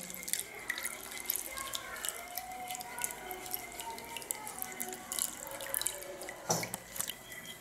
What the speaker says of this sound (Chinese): 加水调匀